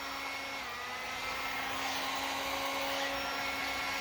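Heat gun warming a 3D printed lens for a Darth Vader costume build, a steady close whooshing blower drone with a constant motor whine and no pauses.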